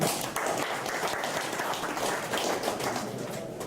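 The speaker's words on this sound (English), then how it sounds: "Let's clap for our chairman" Guests at an Igbo community inauguration ceremony in Qatar clap for their chairman. Brisk, steady applause with distinct individual claps fills the room for nearly four seconds.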